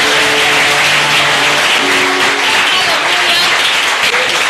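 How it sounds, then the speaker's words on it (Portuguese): A church congregation applauding during a worship service, steady loud dense clapping throughout, with a few voices and shouts mixed in. "Tá fraco esse aplauso aí"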